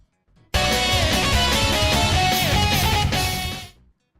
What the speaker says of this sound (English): So a Twitch follower sounds like this.